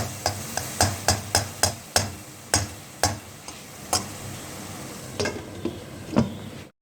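A spoon scrapes and taps against a pan while stirring aloo palak of potato and spinach, about a dozen crisp knocks in an uneven rhythm over a faint sizzle, with no voices.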